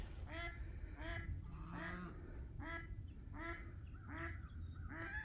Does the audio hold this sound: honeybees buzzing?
no